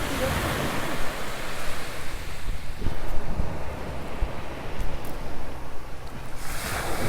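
Ocean surf rolls onto Icacos Beach in a steady broad wash, with wind buffeting the microphone throughout and a slight swell in the middle.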